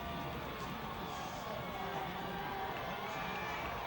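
A high school football crowd at a CIAC semifinal between North Haven and Wethersfield roars in a steady, dense wash of cheering and shouting that fills the whole stretch without letting up.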